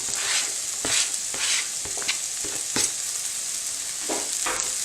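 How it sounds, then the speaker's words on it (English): Onions frying in a hot skillet, a bright continuous sizzle broken by repeated louder bursts of scraping and stirring every half second or so, close and loud with no speech. "Now, without even turning the skillet off, in go my onions."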